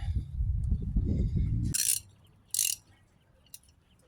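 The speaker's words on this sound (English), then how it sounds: "So now I'm going to get a wrench to put on here. I believe it is a 18mm." An 18mm wrench working a motor mount bolt on a 2007-2012 Nissan Altima: rattling ratchet clicks, then a few sharp metallic clinks close by with quiet gaps between.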